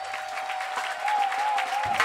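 Brief burst of a church congregation applauding and cheering in praise, continuous clapping over a held musical tone, fairly loud and close.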